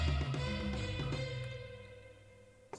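Saxophone washed in a full English chapel reverb with the mix turned all the way up, so no dry signal remains. Smeared sustained tones swell and blur together, fading through a long ringing tail, with a brief click near the end.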